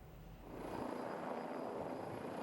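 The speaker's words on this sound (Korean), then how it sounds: "대구 가창댐에서 물을 뜬 헬기가 쉴 새 없이 산불 현장을 오고 갑니다." A firefighting helicopter ferries water from a dam to a mountain wildfire near Daegu, its rotor and engine producing a steady broadband roar that swells slightly as it nears, heard alone at moderate distance.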